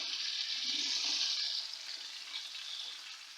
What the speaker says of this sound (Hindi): सबसे पहले मैं पोटा थोड़ी देर में फ्राई करूंगी।